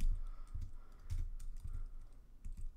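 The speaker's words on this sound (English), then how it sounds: "So as you can see, as I'm typing," Rapid keyboard typing with irregular clusters of keystrokes, close and fairly quiet, with no talking.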